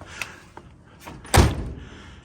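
A single solid slam of a 1964 Volkswagen Beetle door, fitted with peel-and-stick sound-deadening mat, lands as one close, heavy thud after a few faint taps and handling noises.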